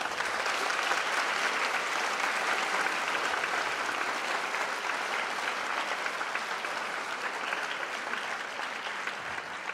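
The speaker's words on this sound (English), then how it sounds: "let's give them a round of applause" Steady audience applause in a high school auditorium during a Veterans Day assembly, a dense, continuous roar of clapping hands at even loudness that thins slightly toward the end.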